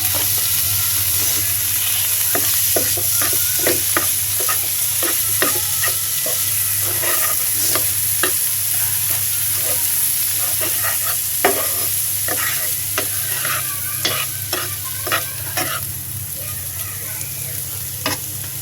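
Grated coconut fries in a pan for stuffed pointed gourd (potoler dorma). A steady close sizzle runs throughout, with frequent scraping stirs of the spatula.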